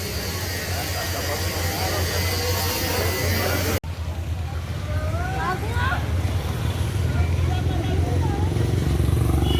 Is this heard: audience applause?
no